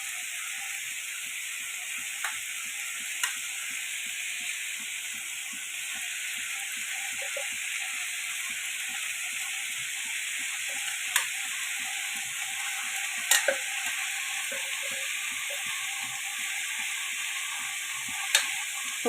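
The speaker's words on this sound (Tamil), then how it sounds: "இந்த தேங்காவை வந்து நான் இப்போ போடுறேன் பாருங்கள்." Half a grated coconut frying in a pan gives a steady, close sizzle throughout, with occasional sharp clicks and scrapes of a utensil stirring against the pan, and no voices.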